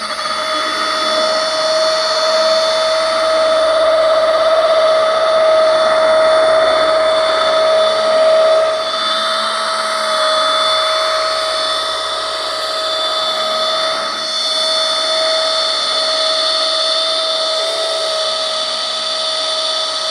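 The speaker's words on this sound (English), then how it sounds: "When you're using a rotary polisher, it's important that you keep the machine moving." A FLEX 24-volt rotary polisher with a wool pad runs on automotive paint, giving a loud, steady high-pitched whine with a slight wavering as the machine is moved, continuous and without talk.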